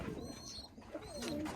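Birmingham Roller pigeons coo softly nearby at a water system, a few low throaty warbles over faint background hum, with no speech.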